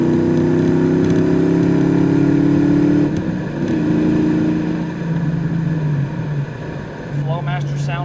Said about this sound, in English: Flowmasters sound real good behind the 5-liter